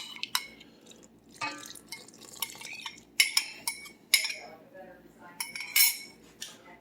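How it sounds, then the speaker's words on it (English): Bubbling yeast goes into a mixing bowl for homemade English muffins, heard as scattered clinks of a utensil against the bowl with small wet splashes and drips between quiet pauses. "now we're going to add in our bubbling yeast."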